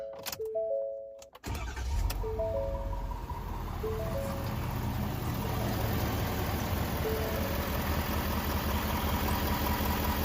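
A 2022 Ford F250 pickup engine cranks and catches, then settles into a steady, close idle with a constant low drone and faint high whine, running alone without voices.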